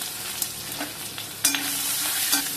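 Chicken liver with green chili, curry leaves, pepper powder and salt stir-frying in a pan, giving a soft continuous sizzle with a few light scrapes and a brief louder stir near the end, close but fairly quiet.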